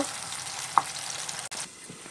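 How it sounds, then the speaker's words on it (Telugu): Tomato gravy frying in a pan for an onion- and garlic-free paneer curry, giving a soft, steady sizzle that stays faint and even throughout, with no voices over it. "ఇలాగా చక్కగా చూసారా ఎంత చక్కగా వేగుతుందో టమాటా"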